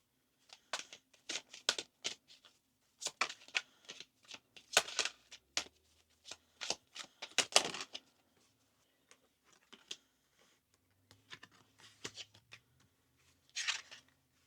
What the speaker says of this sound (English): let's pull some cards from the fairy deck and see what they have to tell you today